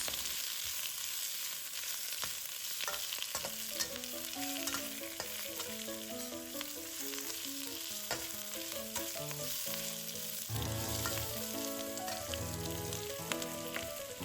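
Bok choy stems, then leaves, stir-frying in a hot pan, a steady soft sizzle with scattered clicks, faint under background music, with no talking.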